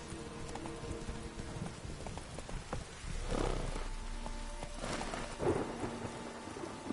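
Hooves of a horse galloping in The Witcher 3, a steady drumming rhythm that runs throughout under a wash of rain and rolling thunder.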